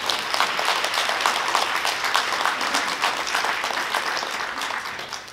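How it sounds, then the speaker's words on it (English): Audience members at an evening panel discussion applaud, a dense, even wash of clapping lasting several seconds and easing off slightly toward the end. "How about a big round of applause for all of you for being here tonight?"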